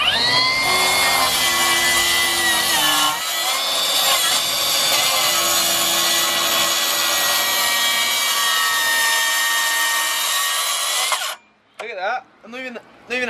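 A power saw rips loudly and steadily through a wooden door with no dust extraction, a dense continuous cutting roar that runs for about eleven seconds before stopping, followed by a few brief bursts of voice.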